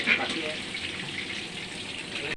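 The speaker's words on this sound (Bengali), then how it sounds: "বাকি চিকেনগুলো ভেজে নিচ্ছে।" Remaining chicken pieces frying in hot oil, a brief, steady hiss and sizzle at moderate volume with a soft clink at the start.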